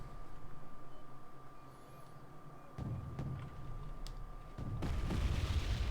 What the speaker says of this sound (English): walking the KCT into the oncoming mortar fire, or the incoming mortar fire